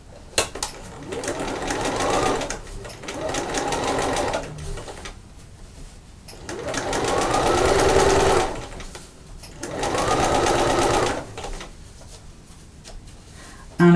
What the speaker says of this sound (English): So we're just going to flip that over, and I'm going to top stitch that